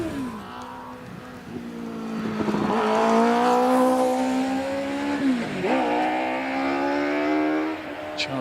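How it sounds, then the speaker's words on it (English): Fisher Fury Spider hillclimb race car revving hard and accelerating away from the start line, engine note climbing through several gear changes, loud and close and then pulling into the distance, no talking. "Revs rise and he's away."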